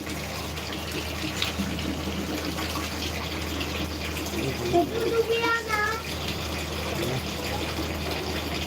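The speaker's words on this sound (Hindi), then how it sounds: "बना नहीं रहे हैं, पानी आ रहा है मेरे भाई" Water running steadily from a tap, a continuous hiss and gush under people talking, with a few brief clinks and tonal squeaks midway.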